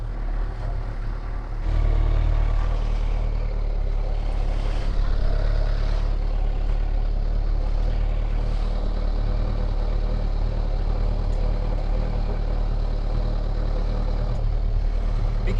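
A 2017 Kawasaki ZX6R motorcycle idling nearby, a steady low engine drone that holds evenly throughout with no revving, heard alone outdoors.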